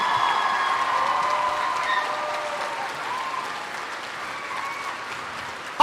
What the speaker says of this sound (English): Really great round of applause for these teachers.